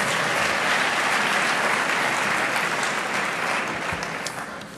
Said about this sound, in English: Give yourselves a round of applause for being cooperative.